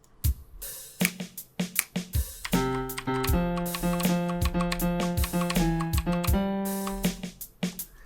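A MIDI melody of If You're Happy and You Know It plays at an upbeat tempo, with tapping, clicking percussive hits at the start, then sustained synth notes over a regular ticking beat; no voices.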